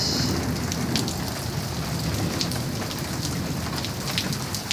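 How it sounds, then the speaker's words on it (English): Steady heavy rain falls on a Florida street and puddles, a dense hiss with a low rumble of distant thunder underneath, no talking. "Is that thunder? I guess it is thunder."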